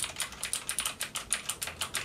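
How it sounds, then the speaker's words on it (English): Rapid clicky keystrokes on an STK 61 mechanical keyboard with blue switches, crisp and close in an even, quick typing rhythm with no voices. "they're a proper clicky keyboard. Now, these are the ones with the blue tab keys"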